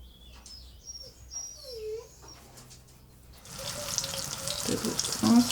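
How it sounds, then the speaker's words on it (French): Comfrey leaves hit hot olive oil in a pan and a strong, hissing sizzle swells over the last two seconds, preceded by quiet dog whimpers and small kitchen noises. "Donc la poêle chauffe et je mets pas mal d'huile d'olive pour que ça baigne bien"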